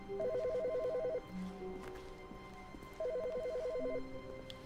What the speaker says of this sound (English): Which phone is ringing?